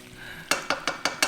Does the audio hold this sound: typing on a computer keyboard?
no